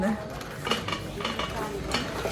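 Plates and kitchenware being handled while shopping for household goods, with light clinks and clatters scattered through a steady background of store noise.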